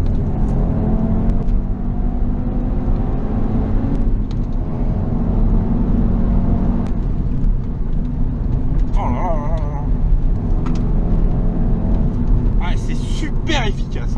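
Audi TT RS engine in a warmed-up car pulling steadily under load while driving, a constant loud drone with slight rises in pitch, a brief higher whine near the end.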